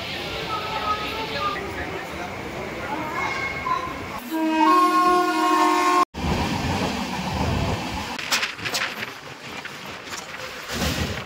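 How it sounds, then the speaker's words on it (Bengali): The Puri–Shalimar Dhauli Express, a passenger train, pulls into Bhubaneswar railway station with a steady rolling rumble, a sustained horn-like tone partway through, and voices in the background. "আমাদের ট্রেন এখন এসে পৌঁছেছে ভুবনেশ্বর রেলওয়ে স্টেশন।"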